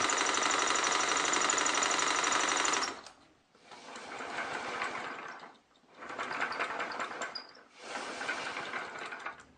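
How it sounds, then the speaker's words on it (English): A homemade air engine runs steadily with a loud, continuous mechanical clatter for about three seconds. It then continues in three pulsing bursts separated by brief dips, while pumping air to drive a second air engine. "I'm actually using the air engine to pump air to power the other air engine"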